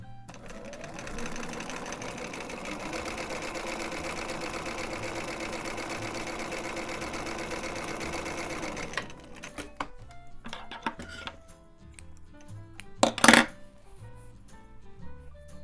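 A sewing machine runs a stretch straight stitch in nylon thread on knit fabric, giving a steady, close mechanical whir for about nine seconds before it stops, followed by scattered clicks and a brief louder clatter.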